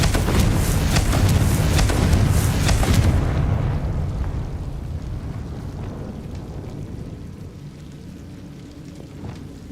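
A Confringo fire spell explodes in Hogwarts Legacy, a loud booming blast with rumbling debris for about three seconds, then fading into a lower, steady rumble.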